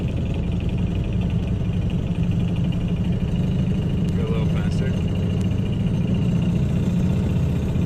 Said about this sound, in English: this crazy intense vibration, this crazy rattling. It sounds like some metal grinding